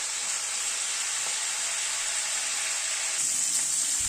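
Winter vegetables for khichdi frying in a pan, giving a steady, even hiss and sizzle throughout with no talking, slightly brighter near the end.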